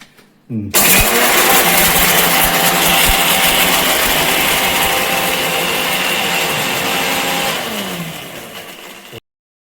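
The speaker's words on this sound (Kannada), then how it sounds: "ತಾವೆಲ್ಲವನ್ನು ಈಗ ಮಿಕ್ಸಿ ಮಾಡ್ಕೊಳ್ತಾ ಇದ್ದೀರಾ?" A mixer grinder grinds leafy greens, a loud, steady motor roar that starts abruptly, runs without a break for about eight and a half seconds, then cuts off.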